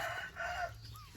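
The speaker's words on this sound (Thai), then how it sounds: "ทุกคนอาจจะได้ยินเสียงไก่นะคะ" Chickens raised at a home cluck and crow, a rooster's call rising in two bursts and trailing off, moderately loud and close with no talk over them.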